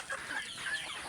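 A Supriya-breed hen on a farm gives a short burst of close, soft clucks.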